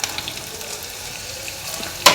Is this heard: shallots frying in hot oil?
yes